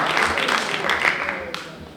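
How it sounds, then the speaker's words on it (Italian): An audience at an Italian award ceremony gives a short round of applause, a steady wash of clapping that fades over two seconds with some talk mixed in. "quindi un applauso a Lucio 48"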